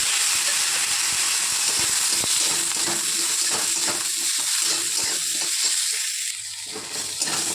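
Potatoes frying in leftover oil in a pan, a steady close sizzle with stirring scrapes that thin out near the end.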